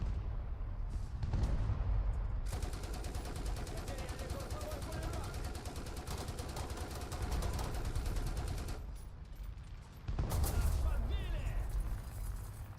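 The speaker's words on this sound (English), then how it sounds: "I love how there's like 4 people shooting me right now" Gunfire from several players in War Thunder, a dense stream of rapid, overlapping shots and heavy bursts running through nearly the whole stretch, loud and continuous, with brief lulls near the start and end.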